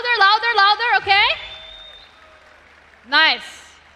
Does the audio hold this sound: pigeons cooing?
no